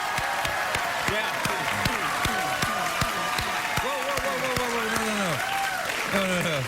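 A late-night talk show studio audience applauds in a dense, continuous wash of clapping, with people talking over it throughout.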